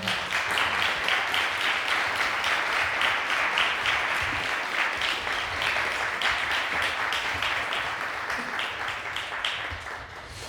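A concert audience at a composition recital applauds, a full, steady wash of clapping that carries for about ten seconds and thins slightly toward the end.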